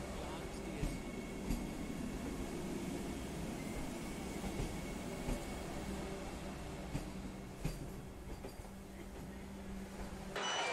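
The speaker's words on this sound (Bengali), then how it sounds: "অন্যদিকে পাশের লাইন দিয়ে এসে আমাদেরকে অতিক্রম করে গেল 22348 পাটনা জংশন থেকে হাওড়াগামী বন্দে ভারত এক্সপ্রেস।" The Vande Bharat Express, train 22348 from Patna Junction to Howrah, passes on the adjacent line, heard from aboard another train as a steady, fairly quiet rolling rumble with faint periodic wheel clicks throughout.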